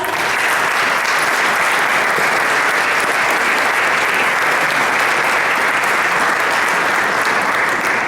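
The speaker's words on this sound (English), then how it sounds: "Let's give them a big round of applause." Loud, dense, sustained applause from a large audience at a college athletic hall of fame awards dinner, steady throughout with no talking heard.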